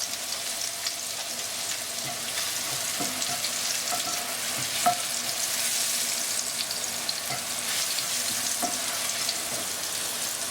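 Chopped garlic and chili stir-frying in hot oil for kale with crispy pork, a bright continuous sizzle with occasional clacks of a spatula against the pan, close and steady with no talk.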